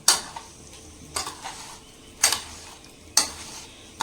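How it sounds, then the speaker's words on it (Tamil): Food being mixed gently with pepper in a pan, sharp metallic spatula scrapes and taps repeating roughly every second over a quiet background sizzle. "இதை நல்லா மிக்ஸ் பண்ணிக்கலாம்"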